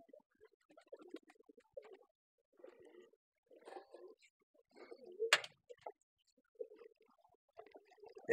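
Pigeons in a loft give soft, low throaty coos in short repeated phrases, fairly quiet and close, with scattered faint rustles and one brief sharp knock between calls.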